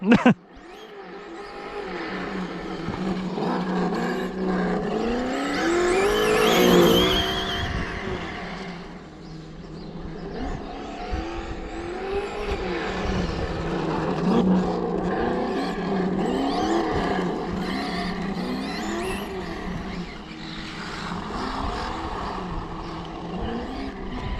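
An RC car's onboard engine sound generator plays revving engine noise with repeated throttle blips rising and falling over about twenty seconds, moderately loud and fairly close, with no talking.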